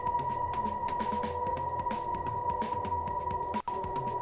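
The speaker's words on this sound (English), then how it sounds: "It's like they got these sirens or synths that are up front." Synth-driven electronic track carries a steady, prominent high siren-like synth tone sitting up front over a dense, continuous mix with a brief dropout near the end.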